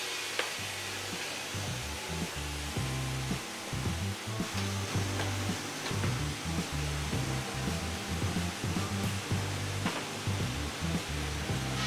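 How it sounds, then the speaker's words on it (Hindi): Butter melts and heats in a pot to make ghee, giving a steady close hiss and bubbling sizzle with soft irregular crackles over a low rumble, continuing evenly throughout. "जो अपन ने मक्खन निकाला था वो अब जाएगा इसके अंदर, ताकि इसमें से घी अलग से निकाला जा सके"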